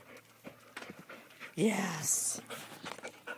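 Airedale terriers pant after a pool swim, with a louder burst of breathy panting and a whimpering whine in the middle, close by, while a person talks briefly.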